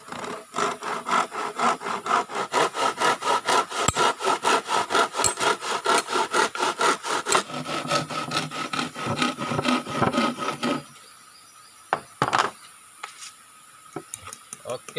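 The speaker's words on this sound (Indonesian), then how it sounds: "Kalau kita gergaji lagi," Wood being cut with a hand saw while shaping the top of a stingless bee (kelulut itama) hive, steady close back-and-forth rasping strokes for about ten seconds, then a pause with a few scattered knocks.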